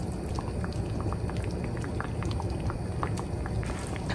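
Vegetable yukgaejang soup with green onion boils steadily in a pot, a continuous bubbling simmer with scattered pops and small splashes, close and moderately loud, with no talking.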